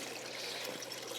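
Water poured at the base of a newly planted spruce in a cottage garden, a steady close splashing trickle that runs unbroken for about a second with no voices.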